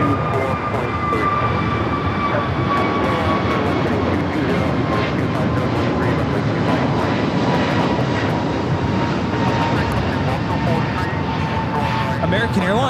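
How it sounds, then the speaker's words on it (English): American Airlines A321neo jet taking off for Dallas Fort Worth at LAX, a broad continuous engine roar with a slowly falling tone, steady and loud throughout, with radio chatter over it. "American Airlines 1659 taking off to Dallas Fort Worth on the A321neo"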